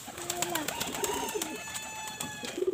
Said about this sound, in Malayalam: അവൻ സിനാൻ്റെ പ്രാവുകളാണ് ഇതൊക്കെ കേട്ടോ.